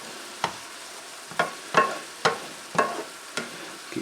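Shrimp fry in a pan, a low continuous sizzle broken by about seven sharp, evenly spaced scrapes of a utensil stirring them around.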